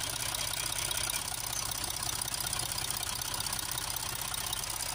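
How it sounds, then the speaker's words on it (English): An Audi A4 3.0 TDI diesel engine idles steadily with a low, knocking rumble that holds an even level throughout, with no voices. "Had the vehicle running for a while now, just giving it a few revs up and down."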